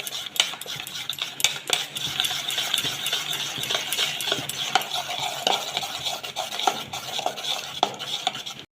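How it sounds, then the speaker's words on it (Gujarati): A spoon stirs dhokla batter just after Eno is mixed in, quick repeated scraping and clinking against the bowl in a steady, close rhythm with no talking. "પછી એને આ રીતે હલાવીશું।"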